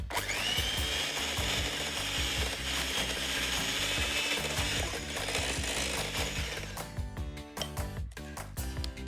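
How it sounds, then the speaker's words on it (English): A whisk beats eggs together in a bowl with rapid, steady scraping clatter, loud and continuous, then breaks into more uneven taps and strokes near the end. "I'm going to whisk my eggs together"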